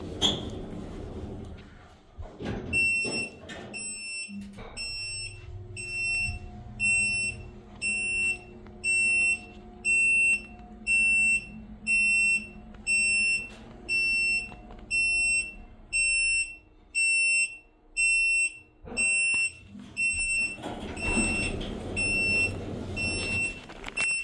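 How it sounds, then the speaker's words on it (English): Loud, shrill electronic fire service alarm in a Schindler 3300 elevator, pulsing in a steady on-off rhythm of high beeps for most of the clip, with mechanical rumbling before and after. "Turn it to off. This will sound the alarm."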